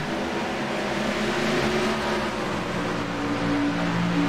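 Loud, continuous engine roar as a field of race cars accelerates on a race restart, the revving pitch climbing steadily with no pauses.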